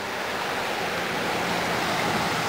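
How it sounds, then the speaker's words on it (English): Continuous splashing water from four fountains hisses steadily at close range, a dense unbroken rush with no pauses. "there's 4 fountains that offers a lot of water noise"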